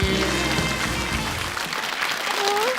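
A steady burst of audience applause at a Taiwanese opera variety show fills the whole moment, dense and loud, with clapping holding an even level throughout.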